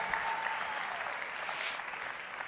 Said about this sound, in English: the auto cue says rapturous applause